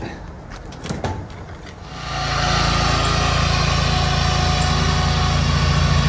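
A core lawn aerator's small engine running on a lawn, starting up after a couple of seconds of quieter background, then holding a loud, steady, close drone.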